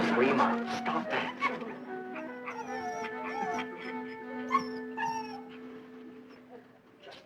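A dog in an old television sitcom whimpers and yips in a series of high, wavering whines with short barks mixed in, close and fairly loud, with brief voices around it.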